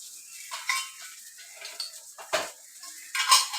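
A spoon stirs fish curry masala with turmeric powder in a pan, making soft scrapes and a few sharper clinks of utensil against metal, with faint sizzling between them.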